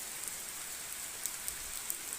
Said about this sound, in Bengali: খালি বৃষ্টি খালি বৃষ্টি পড়ে, খালি বৃষ্টি, সব দিকে বৃষ্টি পড়তেছে,